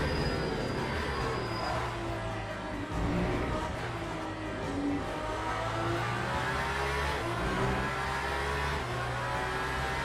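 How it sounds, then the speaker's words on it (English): LMP prototype race car engine in a racing video game, a sustained buzzing drone with shifting pitch as it accelerates and changes gears, loud and continuous throughout. "The new LMP cars are fantastic. They sound really good, drive really nicely."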